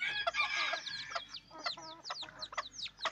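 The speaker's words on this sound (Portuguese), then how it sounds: "Lembrando que são 4 pintinhos de ganizé e 2 de galinha caipira." Young bantam and free-range chicks peep in a busy, overlapping chorus of high, rapid chirps, fairly close and continuous, with a few louder calls breaking through.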